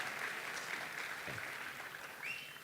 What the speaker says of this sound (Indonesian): ya silakan mau tepuk tangan